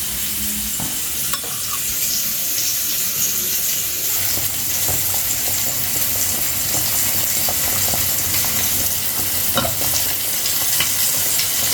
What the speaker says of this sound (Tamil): இது சீலாவும் உப்பும் தூளும் திரட்டி வச்சுருக்கிறேன் பொரிக்க